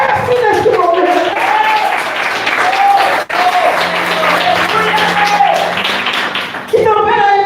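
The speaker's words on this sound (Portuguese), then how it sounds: "aplauda o mestre neste momento" Church congregation applauding in a sustained, dense wash of clapping, with a voice and music carrying on over it throughout.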